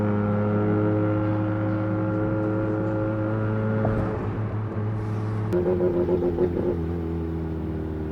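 A Mazda FD RX7 with its rotary engine idles with a steady droning hum, then a sudden loud blast as it accelerates, followed by a rougher, pulsing engine note.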